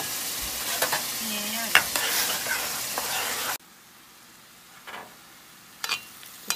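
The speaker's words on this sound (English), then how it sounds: "saute vegetables looks great onion and carrot" Chopped onion and carrots sizzle loudly in a hot pan with occasional scraping stirs, then the sizzle cuts out, leaving quiet room noise and a few knocks.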